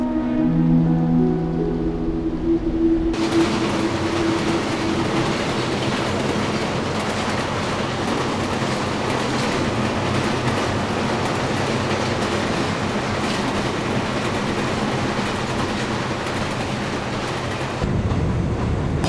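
A train passes on railway tracks, rising suddenly into a loud, sustained rumble and clatter of wheels that lasts about fifteen seconds before cutting back down, following a quieter stretch with faint tonal hum.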